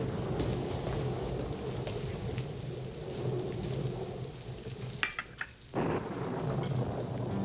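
A thunderstorm rolling in over a lake, with a continuous low rumble of thunder and steady rain throughout, plus a sharper crackling burst near the end.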